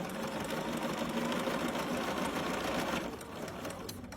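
A BERNINA sewing machine stitching fabric, a rapid steady mechanical whir and clatter up close, then slowing and quieter near the end, with no talking.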